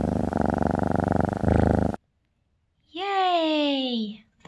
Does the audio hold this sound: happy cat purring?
yes